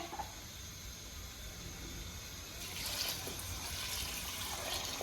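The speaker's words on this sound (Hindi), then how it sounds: "अब हम इसमें पानी ऐड करेंगे" Water poured into a pot of soaked lentils in a home kitchen while making dal and chicken shami kabab, a steady splashing stream that grows louder partway through, close by with no talk.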